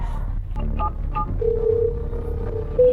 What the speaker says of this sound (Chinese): 行，我现在就给店主打电话啊